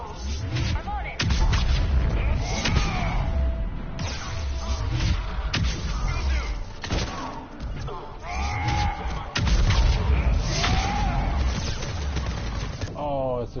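Heavy, repeated turret cannon blasts boom in quick succession with crashing impacts and metallic whines, loud and close, in a battle soundscape from Mass Effect Legendary Edition.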